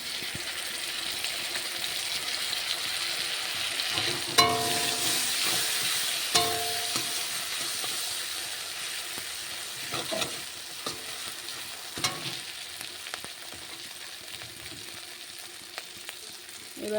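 Ground ginger added to a pan with turmeric and stirred, giving a steady close sizzle with sharp metal scrapes and clinks of the spatula at irregular intervals, the hiss easing slightly over time; no voices.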